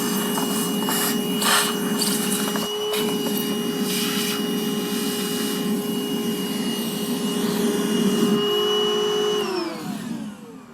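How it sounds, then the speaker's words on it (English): Vacuum cleaner running while cleaning around the engine air filter housing of a 2022 Ram 1500, a loud steady whine with a constant hum and shifting suction noise as the nozzle moves, then winding down at the end. "I might just give it a quick little vacuum."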